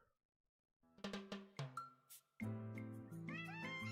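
Cat meows set to cheerful music, a jingly melodic tune with repeated notes, played on a phone livestream; starts after a brief silence and grows louder, fairly loud and close, with no talking.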